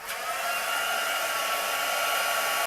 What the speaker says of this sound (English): Get your heating tool nice and warm before you start embossing